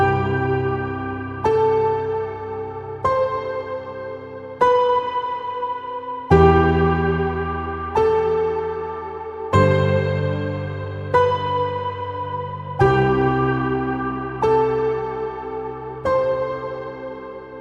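Worship-style keyboard plays big distorted octave lines, sustained chords changing roughly every one and a half seconds with hard attacks, loud and close with no voices.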